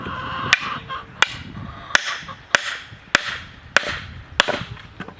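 A hammer strikes a stuck Gerber Strongarm knife seven times at an even pace, each blow a sharp metallic crack with a short ringing tail, close and loud.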